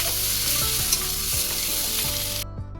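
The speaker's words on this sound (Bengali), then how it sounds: "সব একসাথে কষতে কষতে টমেটোটাও গলে যাবে আস্তে আস্তে" Tomato and spices sauté in hot oil in a wok, giving a loud, steady sizzle with intermittent stirring clanks before the sound cuts off abruptly near the end.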